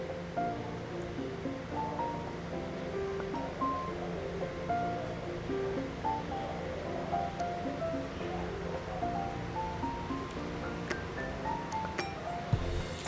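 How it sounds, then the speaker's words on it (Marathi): Water with neem leaves boils vigorously in a pot for a homemade hair remedy, giving a steady, dense bubbling hiss that runs evenly throughout, with soft background music layered on top. "तर आता मी दाखवते तुम्हाला कसं छानपैकी बॉईल करून घ्यायचं ते पाणी."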